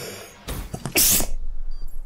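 A single loud, sharp sneeze bursts out close to the microphone during a live Black Ops 3 Search and Destroy gaming session, preceded by a short inhale and followed by faint background noise.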